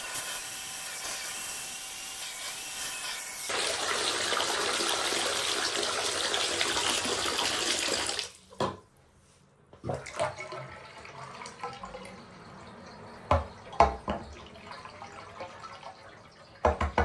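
Water draining, a steady rushing gush for about five seconds that cuts off, followed by gurgles, drips and scattered splashes, close by.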